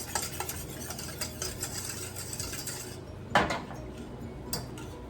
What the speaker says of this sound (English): we're just going to whisk it